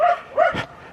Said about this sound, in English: these neighbors' dogs are so annoying when I'm walking through here